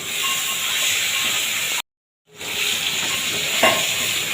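Thinly sliced raw potato sautéing in spices, a steady close sizzle with stirring scrapes, briefly cut to silence and then resuming.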